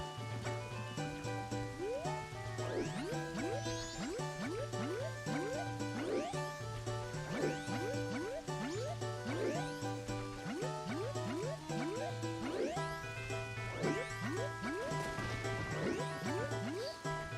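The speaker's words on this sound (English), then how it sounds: "Skipping along the water." Water splashes and drips sound in The Legend of Zelda: Majora's Mask on the N64 as a character skips across water, with rising watery blips repeating over a steady rhythmic game music loop.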